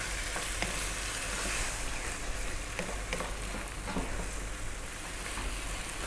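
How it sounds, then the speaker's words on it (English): Chana dal frying with turmeric, chili and coriander, stirred constantly over high heat: a steady, loud, close sizzle and crackle with faint scraping throughout, no voices. "stay on this vibrant heat, stir all the time now for about 4 minutes"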